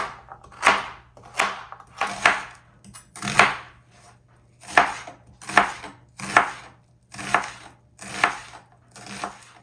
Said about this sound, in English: onion I'm going to be slicing smaller.